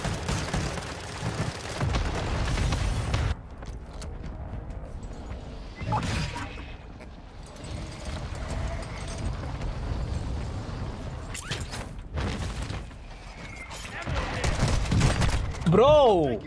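Cluster strike explosions from Call of Duty Warzone, a loud dense volley of blasts and crashes rolling through the clip amid gunfire and game noise, with a voice talking over parts of it.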